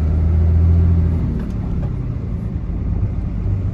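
A car with a G56 manual gearbox runs in second gear, giving a loud, steady low engine rumble close by with a heavier drone at the start that eases off, no talk.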